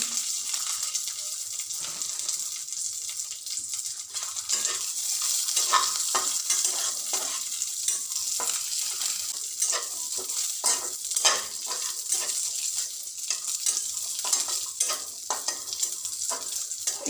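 Cashews and raisins fry steadily in a pan for a payasam, a continuous hiss of sizzling with frequent stirring scrapes and clicks, close and moderately loud with no talk.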